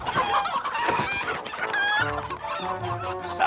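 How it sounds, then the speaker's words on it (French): A flock of cartoon chickens in Thomas & Friends clucks continuously, with overlapping calls and a rooster-like crow partway through, fairly close and busy. "par tous les pistons, ça en fait des poulets"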